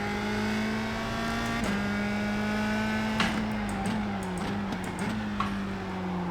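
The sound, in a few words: USF 2000 race car engine at Tsukuba in a racing game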